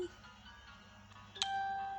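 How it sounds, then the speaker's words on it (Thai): A single bright electronic notification chime rings out once, short and clear, over steady background music during an Undertale play session. "อาแจ้งเตือนอะไรไม่ต้องไม่สน"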